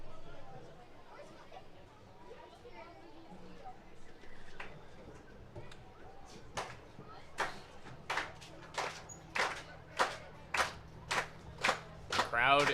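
Crowd at a Hamilton Cardinals vs Barrie Baycats baseball game on a full count, low chatter building into loud rhythmic clapping, a steady run of sharp claps in the second half rising in volume.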